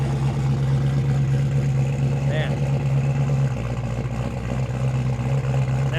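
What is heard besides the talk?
truck engine moving around nearby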